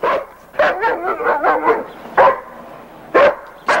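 A dog barks repeatedly and loudly at close range inside a small store in 1982 Winnipeg, with quick yipping bursts and short pauses between volleys.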